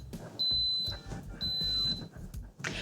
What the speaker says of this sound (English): So that beeping just means it's gonna start coming to pressure.